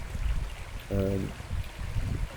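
A small river stream, the Braamfontein Spruit, flows outdoors in a soft, steady low wash, with a brief tonal sound breaking in near the middle.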